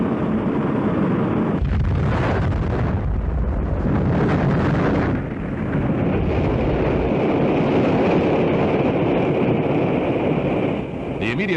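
Loud, continuous roar of an Atlas-Centaur rocket malfunctioning and exploding during launch, a dense rumbling blast with surging noise filling the whole span, buffeted like wind on the microphone.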